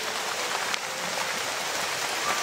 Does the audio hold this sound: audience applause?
no